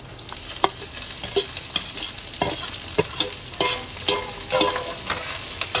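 Finely chopped garlic, ginger and onion frying in a pan, a loud continuous sizzle broken by repeated clattering stirs and scrapes of a spoon, close up with no talking.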